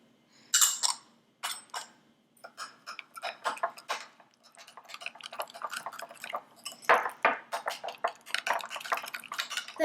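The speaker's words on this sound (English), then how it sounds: "we're going to mix the sugar and the salt with the oyster sauce" Sugar, salt and oyster sauce being mixed in a bowl, with a utensil clinking and scraping against the dish in irregular bursts, close and fairly quiet, no talking.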